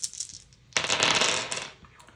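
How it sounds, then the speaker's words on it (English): Dice tumble and rattle across a surface while being rolled for a solo dice game, a bright, busy clatter of about a second after a faint earlier tap, then fading out. "you're going to roll the dice"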